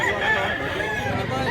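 A rooster at a market in Mantalongon, Barili, Cebu crows loudly and close by in one drawn-out call, with a hazy outdoor background.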